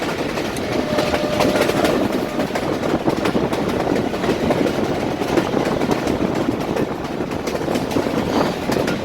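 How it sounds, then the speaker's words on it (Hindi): Train pulling out of Golra railway station on the Safari Tourist train between Attock and Rawalpindi, a continuous rumble with steady rhythmic clickety-clack of wagons over rail joints, heard from on board. "ट्रेन ने मूव करना शुरू कर दिया है"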